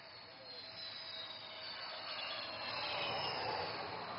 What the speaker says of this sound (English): Weighing over 38 tons, this twin-engine fighter demands nothing but absolute precision while landing on this highway.